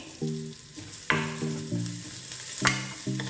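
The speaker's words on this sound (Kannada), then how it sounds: "ಸ್ವಲ್ಪ ಕರ್ಬೇವಿನ ಸೊಪ್ಪು ಹಾಕ್ಕೊಳ್ತಾ ಇದ್ದೀನಿ" Curry leaves hit hot oil in a frying pan and sizzle up in a few loud, crackling bursts, with stirring clatter in between and no talking.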